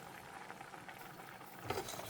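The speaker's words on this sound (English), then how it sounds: "the rice has come to a boil" Basmati rice boils in a pot with a dense, steady bubbling and popping at moderate, even loudness, without a break.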